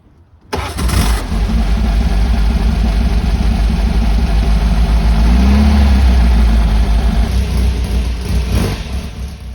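A cold MG TF1500 roadster engine cranks and catches after a short silence, then settles into a loud, steady, rumbling idle with a brief rev in the middle, heard up close.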